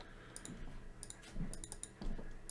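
A computer mouse clicks several times while laying out a design for a Glowforge laser cutter, quick light taps in small clusters spread across a couple of seconds, heard close and alone without talking.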